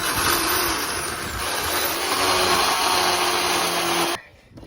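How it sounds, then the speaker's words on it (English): A loud, steady chainsaw roar grinds on for several seconds as it cuts through roots in dirt, then cuts off abruptly, leaving a low idle. "You shouldn't really use the chainsaw in the dirt."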